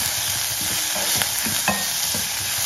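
Vegetables with grated carrot are sautéed in a pan for sorghum paniyaram, with a spatula scraping and stirring in uneven strokes over a continuous sizzle.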